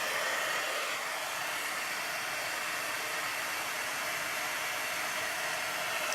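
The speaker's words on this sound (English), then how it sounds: "And then I'm going to come in with my heat tool. I'm heating it up off to the side until it's warm." A craft heat tool blows hot air in a steady, loud, continuous whoosh, held alone without pauses while warming up off to the side before heat-embossing a snowman card.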